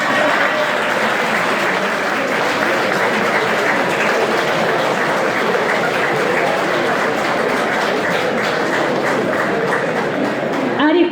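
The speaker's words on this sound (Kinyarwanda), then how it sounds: "muduha amashyi." Loud, sustained applause from a large audience at a speaking event fills the whole stretch, a dense unbroken roar of clapping that holds steady before a slight swell at the end.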